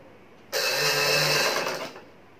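A sewing machine stitching the seam of a kurti, one short, close, steady whirring run of about a second and a half that starts abruptly and then winds down in a quiet room.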